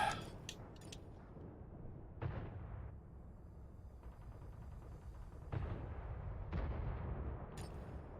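Missile explosions in the tank video game World of Tanks, a handful of sharp, booming blasts spaced a second or two apart over a quiet low rumble.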